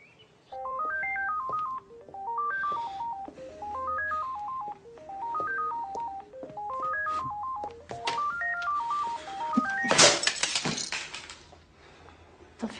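A telephone plays a repeating electronic melodic ringtone in several bursts, moderately loud, followed by a sharp crashing clatter near the end, with no talk.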